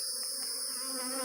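Honey bees swarm around a hive box during installation, giving a dense, continuous buzzing drone that stays close and steady for the whole moment, with no voices.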